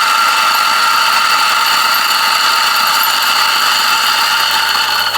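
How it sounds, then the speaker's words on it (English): A DF64 Gen 2 coffee grinder runs continuously while grinding coffee, giving a loud, steady high-pitched whine and mechanical rattle throughout, alone with no talk. "The last thing I want to do with this camera angle is to grind some coffee"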